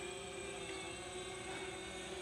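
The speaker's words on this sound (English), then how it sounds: "if I bring that drone down a bit" An old DJI Phantom quadcopter drone hovers nearby, giving a steady high-pitched propeller whine with a strong constant tone, continuous and unbroken, with no talking.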